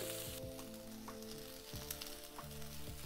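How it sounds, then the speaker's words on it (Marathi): Wild ghaturli greens sautéing in a pan make a faint, low sizzle with a few soft taps and scrapes of stirring scattered through, quiet and close with nobody talking. "भाजी परतून घेतली, थोडीशी कमी झाली बघू शकता"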